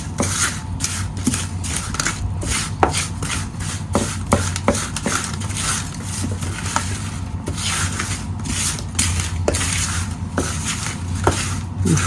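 Chunks of pork belly being broken apart and tossed with a dry rub by hand, a continuous close rubbing and scraping with rhythmic strokes and occasional light knocks, no talking.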